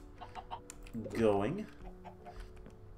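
A Minecraft chicken in the Stoneblock modpack gives a short burst of clucking in the middle, close and clear, with someone talking quietly around it.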